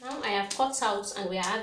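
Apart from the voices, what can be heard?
None of the usual background noises is heard.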